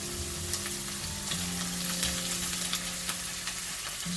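Mushrooms stir-frying in a hot pan give a steady close sizzle with crackling pops and occasional scrapes of stirring throughout, no voices.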